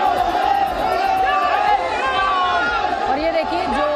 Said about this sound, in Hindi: पटना एयरपोर्ट पर उन्हें देखने के लिए भारी भीड़ उमड़ गई।